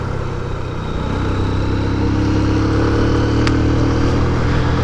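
A motorcycle rides along a mountain track near Panjpir Rocks, Kahuta, Pakistan, its engine droning steadily and loud up close, mixed with wind rush and no pause.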